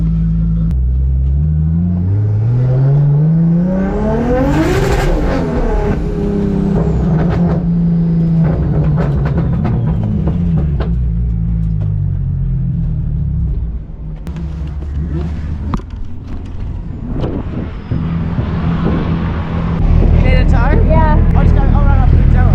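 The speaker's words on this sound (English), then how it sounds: "give it the berries as well, make sure you get the RPM up" A Nissan Skyline engine revs hard, its pitch sweeping up to a high whine and falling back, loud and close, with people talking over it.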